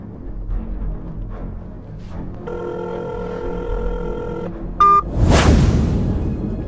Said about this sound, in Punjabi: ਹਾਂ ਫੋਨ ਕਰਕੇ ਦੇਖਦਾ ਹਾਂ